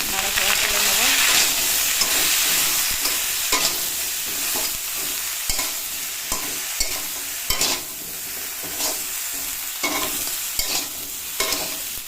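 Cauliflower florets stirred and fried in a pan with salt and turmeric, giving a close, steady sizzle broken by repeated scraping stir strokes throughout.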